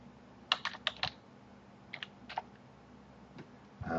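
A few quick bursts of keystrokes on a computer keyboard, a cluster of clicks, then a short pause and another brief group of taps, close and quiet with no talk.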